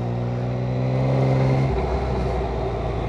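Yamaha MT-09 motorcycle engine, a new-design bike making 119 hp at 10,000 rpm, revving loudly close by with a steady droning tone that drops abruptly partway through, no talk.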